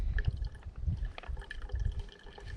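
Water trickles and gurgles softly through a portable bacteria filter, a faint, close, uneven liquid flow with small drips and no talking.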